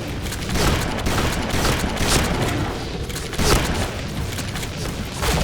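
Shotgun blasts in the shooter game Point Blank during a deathmatch, repeated loud booming shots at uneven intervals over a dense background of game noise.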